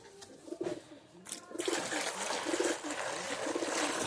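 Pigeons coo softly in a loft alongside a faint trickle of water, with close rustling and a brief voice at the start.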